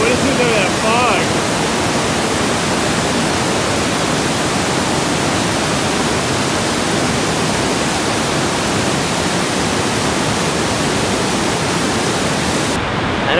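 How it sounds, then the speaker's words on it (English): A warm glacial creek fed by a lake above rushes through an ice cave in Wrangell St Elias National Park, a loud, constant broadband roar of flowing water that fills the space close by, with faint voices briefly at the start. "this creek right here is coming from the lake up top, and it's super warm"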